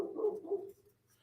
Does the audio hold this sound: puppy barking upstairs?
yes